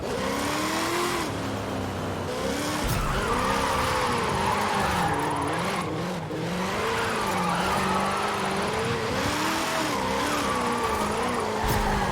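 A car with traction control on, held in first gear, drifts with engine revving and long wavering tire squeals that rise and fall continuously, loud and close throughout.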